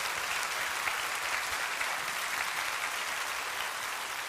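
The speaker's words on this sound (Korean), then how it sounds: "뜨거운 박수 맞으시기 바랍니다" A church congregation at a Sunday worship service gives a warm round of applause, dense and continuous clapping that holds steady throughout.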